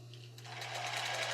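A sewing machine runs a zigzag stitch through tulle and lace for a bra, starting up after a brief lull and then whirring steadily with a rapid rhythmic needle pulse, close and clear.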